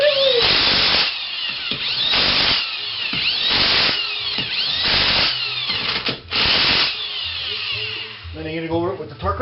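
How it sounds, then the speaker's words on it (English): A corded electric impact wrench strips a nut and stud from a car's rear brake assembly in repeated loud, rattling bursts of about a second each, with brief pauses between them and a voice speaking near the end. "I take my trusty electric one and I just give her shit"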